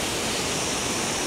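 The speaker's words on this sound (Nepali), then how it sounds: "त्यस पछाडि क्याङको खोला मिसिएर यो दोभान भनौँ न एउटा खोलाको" Water rushing where the Kaule and Kyang streams meet in a hillside river confluence, a dense, steady roar of broadband noise filling the whole moment without pauses or voices.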